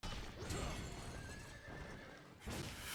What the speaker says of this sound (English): He'll jump back on the horse.